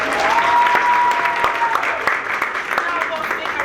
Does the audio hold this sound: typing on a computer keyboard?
no